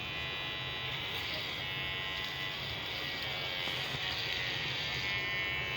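An electric hair clipper with freshly sharpened blades runs with a steady, continuous high buzz at close range for the whole stretch.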